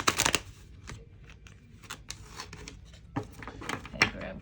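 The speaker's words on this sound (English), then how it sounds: "Just allow me to shuffle this real quick." A tarot card deck being shuffled by hand at close range, with a burst of riffling at the start followed by scattered soft card slaps and flicks, and faint speech in the background.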